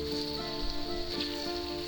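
Mushrooms sautéing in a pan give a steady soft sizzle and crackle, faint and continuous, with a constant hum underneath.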